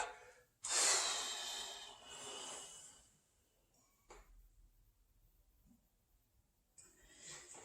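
A person breathes out hard through the nose during a beginner joint-mobility exercise: one strong, close snorting exhale, then a softer follow-up breath and a faint breath near the end, with quiet gaps between.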